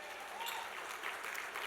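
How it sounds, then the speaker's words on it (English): An audience at a public interest award presentation applauds, a brief steady burst of clapping with some crowd murmur. "It's always an applause line"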